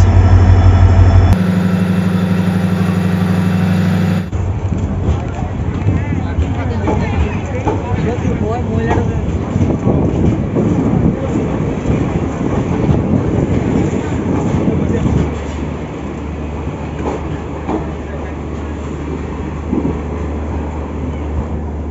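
Passenger train pulling out of Agartala railway station, a steady low engine rumble with clanking and rolling noise, a voice talking over it and a short burst of music partway through.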